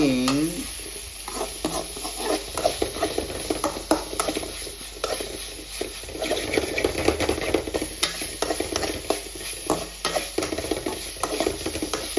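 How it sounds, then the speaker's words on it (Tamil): Ginger and garlic sautéed in a pan over high heat for pasta, a loud, close, steady sizzle with constant rhythmic scraping and clinking of a spoon against the pan. "இஞ்சி பூண்டு பச்சை வாசனை போகிற வரைக்கும் வேக வைக்கணும்"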